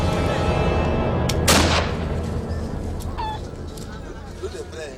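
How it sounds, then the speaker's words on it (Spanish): Gunshots fired in an African village community to announce that a woman has died, a sharp crack standing out around the middle over a dense, continuous background of noise and voices, with fainter bangs later. "Los disparos anuncian que una mujer de la comunidad ha fallecido."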